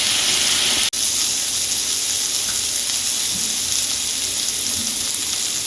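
Fish sautéing with spices in a pan for Bengali amudi fish curry, a continuous close hiss and sizzle with a brief break near the start, steady and fairly loud, no talking.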